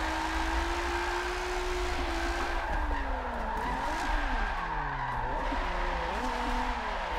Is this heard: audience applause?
no